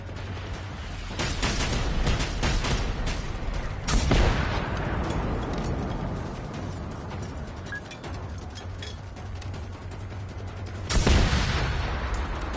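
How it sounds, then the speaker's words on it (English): Recoilless rifle firing in the Generation Zero video game, with heavy booming blasts near 1, 4 and 11 seconds over a steady rumble of continuous gunfire and battle noise. "This is a recoilless rifle."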